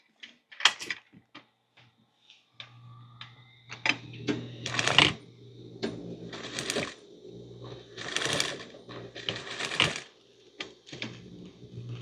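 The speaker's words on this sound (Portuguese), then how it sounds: "E vou lá na máquina terminar essa costurinha daqui." A sewing machine finishes a short seam on a fabric tea-time kit project, heard as intermittent bursts of close mechanical whirring and stitching mixed with clicks and handling knocks between pauses.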